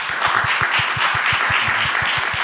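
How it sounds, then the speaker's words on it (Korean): A lecture audience applauds the speaker at a talk on climate and living with forests, with loud, steady, closely spaced clapping sustained throughout and no talking. "오늘 강연을 위해서 수고해 주신 오기출 이사님께 큰 박수 다시 한번 부탁드립니다"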